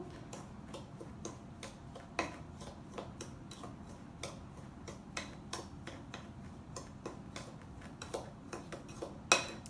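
Peppermint hot cocoa sugar scrub being stirred in a bowl: steady, quiet clicks and scrapes of a utensil against the bowl in an irregular rhythm, close up with no talking.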